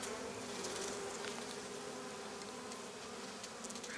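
Honeybees buzzing steadily at a beehive opened for spring cleaning, a dense close drone of many wings with a few individual bees flitting past, no talking.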